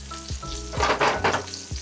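Hamburger patties frying in olive oil, a loud close bubbling sizzle that swells in bursts, with a low hum beneath and no speech.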